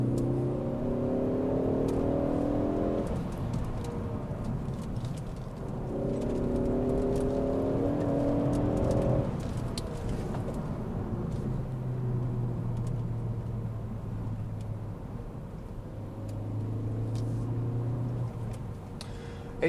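A Ford Focus ST3 driving on a clear country B road, its engine droning and rising in pitch through repeated accelerations, with steady road and wind noise underneath.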